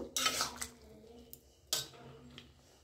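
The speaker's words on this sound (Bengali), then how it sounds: "তো আমি একটু খুন্তিতে ঘেঁটে দিচ্ছি" A spatula scrapes and knocks in a pan as a potato curry is stirred, two clear strokes with softer clicks in between, close and moderately quiet.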